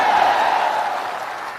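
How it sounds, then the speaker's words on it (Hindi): Audience clapping at a Jan Suraaj political rally, a dense, steady wash of many hands that fills the whole stretch and eases off slightly toward the end. "अब बजाइए ताली।"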